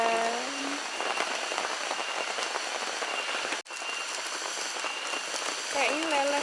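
Steady rain hisses down during a thunderstorm on a hike at Puthuk Gragal, a dense even patter close by while people talk over it.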